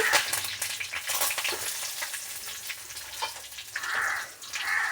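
Curry leaves sizzle in hot oil, a steady close crackling hiss with brief louder bursts near the end, and no voices.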